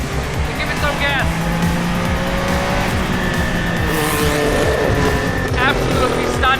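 A Porsche Group C race car revs and accelerates hard on track, a loud, continuous, close engine roar with rising gear pitches and tire noise.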